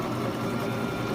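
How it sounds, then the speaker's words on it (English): A sewing machine stitches steadily over stretched elastic on a wool flannel cover, its rapid needle chatter continuous and close throughout, with no talking. "I stretch the elastic as I'm sewing and just sew right over it"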